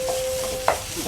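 Ghee sizzles softly in a pan while carrot halwa is stirred, a faint crackle with one brief sharp scrape of the spoon partway through, quiet and close, no talking.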